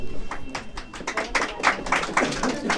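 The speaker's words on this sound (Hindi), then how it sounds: "आइए 70 में 62 नंबर, इसके लिए जोरदार तालियां" Classroom of students clapping together, a brief burst of rapid, uneven hand claps close by.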